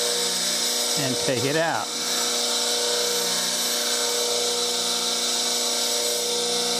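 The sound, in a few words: bench grinder sharpening a spindle gouge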